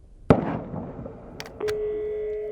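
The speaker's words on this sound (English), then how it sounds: "when a gunshot is heard" A single sharp crack rings out at a distance, followed by quiet outdoor ambience and a faint steady tone.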